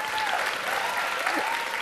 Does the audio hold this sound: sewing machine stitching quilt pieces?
no